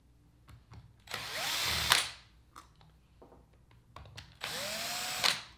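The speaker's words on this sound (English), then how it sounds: "I'm going to take my drill." A power drill whirs in two short bursts removing screws from a VPI turntable motor assembly's bottom plate, each revving up then stopping, with small clicks and handling noises between them, close by.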